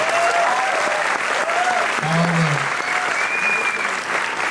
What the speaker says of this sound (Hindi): इसके लिए जरा एक बार जोरदार तालियां सोनू जी के लिए।